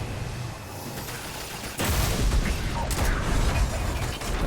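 Gunfire erupts in the Destiny shooter after a quieter mechanical stretch, a loud rapid burst of shots over rumbling combat noise that continues to the end.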